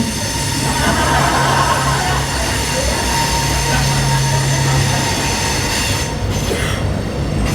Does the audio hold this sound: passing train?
yes